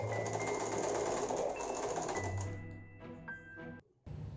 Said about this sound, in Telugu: ఫస్ట్ ఒక సైడ్ని మట్టికి పైనుంచి కింద వరకు కుట్టేసేసేయండి